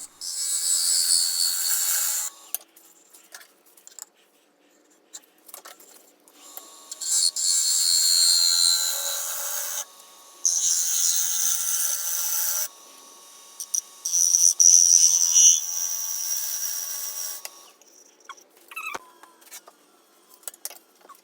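A negative rake scraper cuts a black walnut pedestal bowl spinning on a lathe, producing bursts of bright hissing scraping a few seconds long separated by quiet gaps, close and moderately loud.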